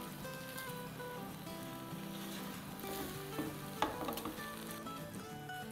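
A cabbage and vegetable mixture sizzles as it is stirred in a pan, with soft scrapes and a few sharper clinks near the middle over a steady frying hiss and tonal background sound.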